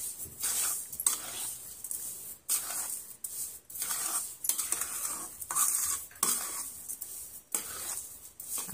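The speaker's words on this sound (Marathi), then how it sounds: "अशा प्रकारे मिक्स करून घेऊया सगळी साखर आपण." A spoon stirs sugar into sheera, an Indian semolina sweet cooked halwai style in a pan, with steady scraping strokes and clinks against the metal, repeated in an even rhythm, close and clear, with no talk.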